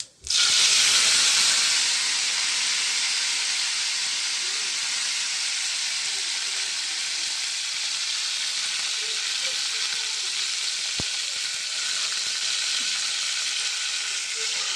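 Curry leaves and coriander hit a hot pan, setting off a loud, steady hiss of sizzling oil that flares at the start and then holds evenly, close and continuous without talk.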